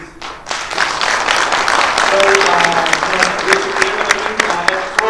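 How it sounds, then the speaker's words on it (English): Conference audience at NaSCoIT 2016 breaks into a big round of applause, dense clapping building quickly and holding steady, with a voice speaking briefly over the crowd. "let's have a very big round of applause to this conference called NaSCoIT"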